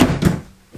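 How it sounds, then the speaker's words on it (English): An RV baggage door on a 2016 Evergreen Bayhill 340RK travel trailer thunks shut in one solid, close impact, followed by a brief fading rattle and then quiet. "That's that baggage door I couldn't open up there from the outside."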